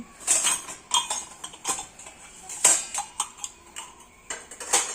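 Metal spoons and utensils clink and rattle together in quick, irregular bursts, close by, with sharp bright chinks throughout.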